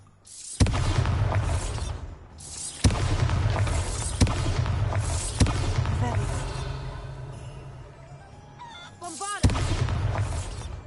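Repeated Bombarda spell explosions in Hogwarts Legacy, four or five sharp booming blasts spaced a couple of seconds apart, each with a ringing, debris-like tail, loud and close.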